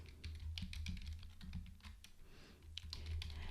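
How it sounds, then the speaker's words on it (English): Rapid keystrokes clatter on a computer keyboard while an email address is entered, a quick irregular patter of close, quiet clicks with a short pause midway and no talking. "I'm going to start typing in my email address."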